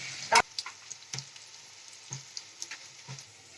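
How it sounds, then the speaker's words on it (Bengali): Vegetable manchurian balls fry in oil, heard as a faint, quiet sizzle broken by a handful of sharp pops and crackles, one louder near the start, with no talking. "আমার বলগুলো সব ভাজা ভাজা হয়ে গেছে দেখুন এরকম লাল করে ভেজে নেবেন"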